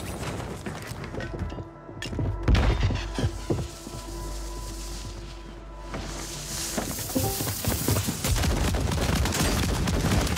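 Shotgun blasts and gunfire in Call of Duty Warzone on Rebirth Island, heavy booming shots in bursts over a dense, busy game soundscape with thuds and a low hum.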